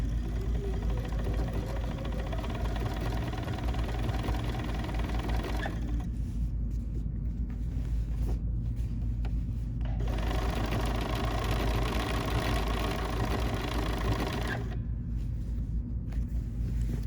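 A domestic sewing machine stitches through a quilt's backing fabric, running in steady mechanical bursts with short pauses between, its motor hum and needle clatter fairly loud and close, with no talking.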